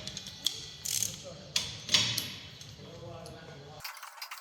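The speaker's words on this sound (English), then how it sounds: "let's quickly get these torqued up. Let's go the right way with my torque wrench." Close metallic clicks and ratcheting from a torque wrench tightening the front brake caliper carrier bolts on a Dacia Duster, a few sharp irregular clacks spaced over several seconds in a quiet setting.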